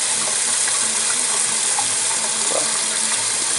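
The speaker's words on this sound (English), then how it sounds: "Water's on." Water runs steadily from a Delta kitchen faucet, a constant broadband hiss and splash that fills the whole stretch without pause or voices.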